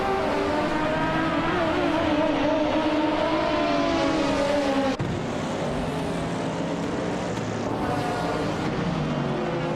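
Race cars driving and revving on a video game track, a dense continuous engine roar with wavering pitch, a sudden shift in tone midway, loud throughout with no talk.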